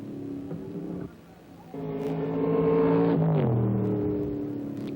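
Race car at the 1963 Riverside Grand Prix accelerates on the track, its engine note dipping briefly and then swelling loud and rising in pitch as it pulls away, alone without talk.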